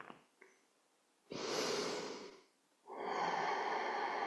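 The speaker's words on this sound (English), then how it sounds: "Breathing into the belly." Slow, deep breaths during a stretching exercise, drawn into the belly: a faint sniff, then a long airy inhale and, after a pause, a long exhale, close and quiet with no talking.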